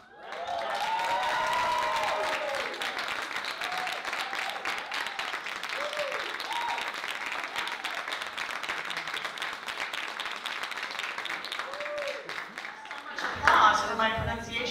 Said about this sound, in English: Applause for my pronunciation of his name.